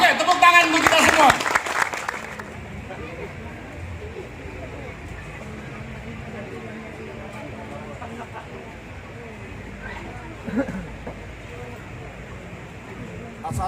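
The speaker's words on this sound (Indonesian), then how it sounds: "Oke, tepuk tangan untuk kita semua." Audience applause at an anniversary gathering opens loudly for about two seconds and then cuts off. Quieter room noise and murmuring follow for the rest of the clip.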